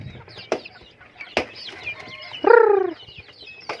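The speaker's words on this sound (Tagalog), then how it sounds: "Lumilipad talaga sila, sumasampas sa kamay mo." Native backyard chickens flutter and flap their wings in short bursts close by, with a loud squawking call partway through and scattered bird chirps around.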